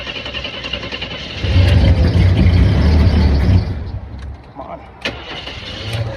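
A 1982 Jeep Wagoneer Laredo engine cranks on a cold start, a loud churning burst for about two seconds that then dies away, with a person speaking briefly nearby.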